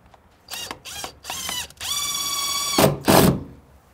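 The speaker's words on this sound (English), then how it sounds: "Go ahead and screw it right there." Power drill driving a screw into a window frame during a sunroom window installation, with several short whirring bursts followed by one long steady high-pitched spin and a couple of final grinding pulses, loud and close.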